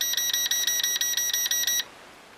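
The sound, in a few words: beeping of Eachine E511s drone while camera tilts down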